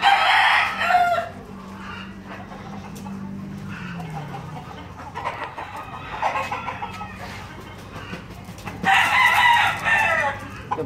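A fighting rooster crows loudly at the start and twice more later, with low clucking between bursts, close and alone with no talk.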